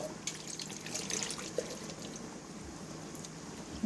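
Canned beans and their liquid pour and trickle into a full pot of vegetarian cabbage soup, a soft watery splash with light drips and clinks, close and fairly quiet.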